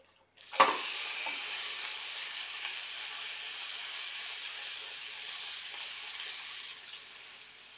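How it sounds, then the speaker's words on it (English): Okonomiyaki with bacon sizzling on a hot griddle, a loud steady hiss that bursts in suddenly and holds for several seconds, close up with no talking. "You've got to turn it down just a little bit more because you've got bacon cooking."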